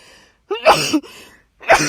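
A sharp, close sneeze bursts out, followed by a second explosive burst a moment later, with no talking.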